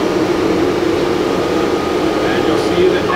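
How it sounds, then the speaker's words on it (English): Cooling blower of a Vibration Research electrodynamic shaker running, a loud steady airy whoosh and hum holding level throughout, close by. "Now the blower is connected up properly, let's give that another try."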